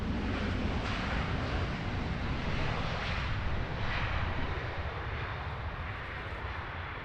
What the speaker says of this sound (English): Nice clean One World liveried A320 there.